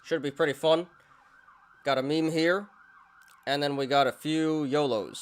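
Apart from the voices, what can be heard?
emergency vehicle sirens passing outside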